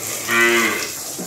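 A single cow moos on a cattle farm, one short tonal call rising and fading near the start, loud and close, followed by quiet farm background.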